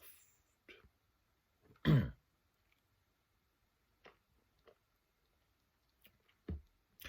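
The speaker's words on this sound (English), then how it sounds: "He coughed again." A single close cough or throat clearing stands out amid quiet, followed by a few faint small sounds.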